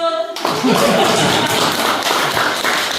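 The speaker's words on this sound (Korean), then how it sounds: "박수!" An audience at a talk on a village survey breaks into applause right after a short spoken cue, a loud and dense burst of many hands clapping close by, with faint laughter mixed in.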